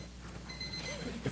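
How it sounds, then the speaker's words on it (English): An electronic alarm in a board of education meeting room gives short repeated beeps, moderately loud against a quiet room hum. "We can't figure out how to stop the beeping, so bear with us for 1 second."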